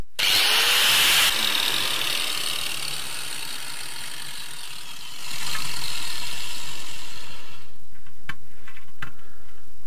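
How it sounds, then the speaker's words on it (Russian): A power tool's cutting disc whines and grinds loudly and steadily, with the pitch shifting partway through as the blade bites. "Этот диск очень и очень классно пилит."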